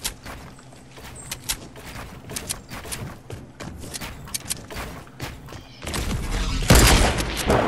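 Sniper rifle shots ring out in a video game firefight, several sharp reports spread across the scene over steady background noise, with the gunfire growing louder and denser near the end.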